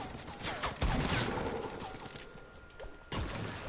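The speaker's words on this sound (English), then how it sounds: "He's shooting." Rapid bursts of gunfire in the video game Fortnite, with a loud volley at the start and another near the end, sharp and close, and faint game effects between them.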